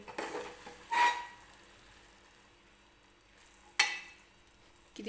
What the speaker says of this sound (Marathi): जो शिजवून घेतलेला पावटा आहे तो आता याच्यामध्ये टाकून घेणार आहे मी आणि छान असं मिक्स करून घेणार आहे